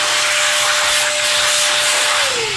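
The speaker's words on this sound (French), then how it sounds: "Ah, c'est une soufflette." Air blower duster (soufflette) blowing out dust during maintenance at a theatre; a loud, continuous hissing rush of air close by, with a steady tone that drops in pitch near the end.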